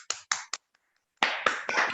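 Scattered hand claps from an online audience come through open microphones: a few sharp, separate claps, a short silence, then a denser burst of clapping. No voices.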